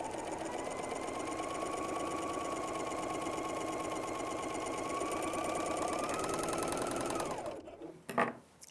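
Bernina L 660 overlock sewing machine stitching fabric with the differential feed set toward 1.5, a steady close, loud rapid whir that runs for about seven seconds and then stops abruptly, followed by a brief clatter.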